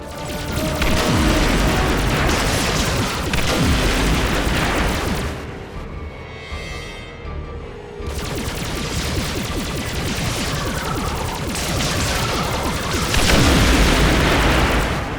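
Phaser fire and explosions in a Star Trek starship battle game, with loud, dense booms and bursts filling the scene, dropping to a quieter, hollow lull midway before the barrage resumes and swells toward the end.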